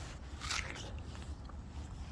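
A single crisp bite into a crunchy, juicy winter pear, a short wet crunch near the microphone with faint chewing after, no voices.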